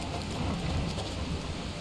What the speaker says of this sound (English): the rain is so loud